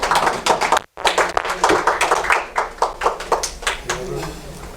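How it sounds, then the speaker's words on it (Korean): An audience at a Korean community lecture forum in Washington claps to welcome a pastor to the stage, with brisk, dense applause close by and a voice over it. "박수 환영해 주십시오"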